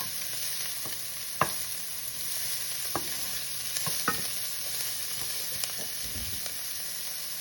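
Lentils softening in a pan for a creamy coconut curry, with a steady close sizzle and occasional sharp scrapes and taps as a spoon stirs them, no one talking.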